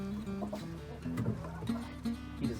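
A backyard chicken on a small farm clucks repeatedly up close, a series of short pitched calls in an uneven rhythm with no one talking.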